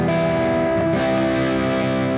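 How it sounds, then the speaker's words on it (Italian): Electric guitar played through a Spark amplifier, sustained and clipping with gritty distortion, chord tones ringing continuously and loudly with no voice. "in questo istante io ho sentito un po' di clip e un po' di distorsioni"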